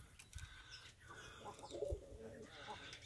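Soft cooing from roller pigeons outdoors near their loft, a low murmuring call rising briefly among faint rustling and distant ambient noise.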